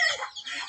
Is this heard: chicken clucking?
yes